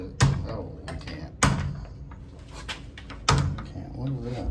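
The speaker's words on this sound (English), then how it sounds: "Let's lock the door and use it" A bathroom stall door bangs and rattles three times in a clear sequence as someone tries to lock it, with quieter room noise between the hits.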